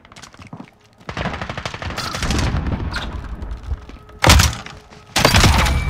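Rapid bursts of suppressed gunfire from a silenced weapon in the video game Call of Duty: Modern Warfare, with sustained volleys and sharp thumping impacts, loud and close, stopping briefly before another burst.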